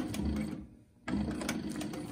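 SEWPRO 266 extra heavy duty zig-zag sail sewing machine with a 110 volt motor runs with a close, steady mechanical whir, stops briefly and then starts again.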